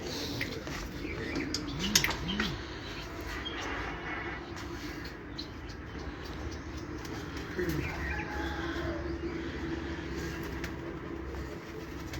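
Pigeons coo softly on a rooftop loft in Punjab, a few low murmuring calls over a steady rumbling background hum, faint and somewhat distant, without speech.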